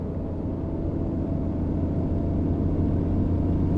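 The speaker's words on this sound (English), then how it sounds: "The engine sounds a bit bugged still" A steady, low-pitched container truck engine rumble from the game On The Road: Truck Simulator hums continuously at moderate volume, without much change, its engine sound glitched.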